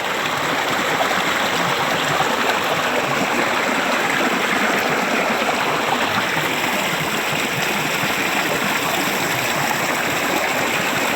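Cold mountain water pours out from under rock in a steady, loud, close rush, an unbroken broadband flow with no talk over it.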